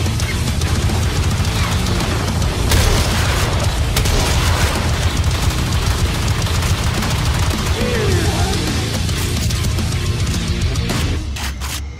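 Rapid, dense shotgun fire from the Corinth Prime in the Warframe video game, loud and continuous, with booming blasts layered over constant broadband gunfire and impacts throughout.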